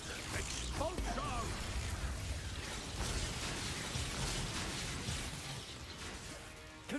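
Expulso explosion spell cast in the video game Hogwarts Legacy, a dense burst of crashing, crackling magical impacts and rumbling debris that fills several seconds at steady loudness, with a voice faintly present underneath.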